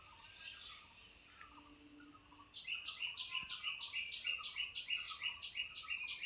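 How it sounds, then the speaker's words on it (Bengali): Birds call outdoors on a breezy day. A few faint scattered chirps give way to a steady, rhythmic run of sharp, bright calls that repeat at close intervals. "ওই যে পাখির আওয়াজটা শোনো"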